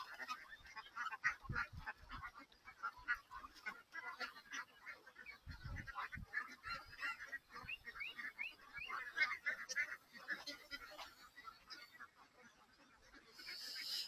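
Ducks at a commercial duck farm call and honk continuously while feeding, a dense overlapping flock chorus close by with scattered louder squawks throughout.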